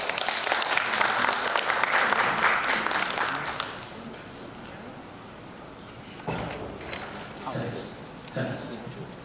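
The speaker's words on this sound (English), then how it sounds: "Please give Chawanvit a round of applause" An audience at a Thailand public speaking competition gives a loud burst of clapping that fades after a few seconds, followed by a student speaker beginning to talk while scattered claps continue.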